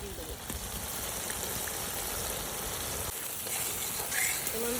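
Cumin, ginger, garlic, green and dried chillies fry in hot oil for a duck egg and greens dish, a dense continuous hiss and sizzle, close and fairly loud, without speech.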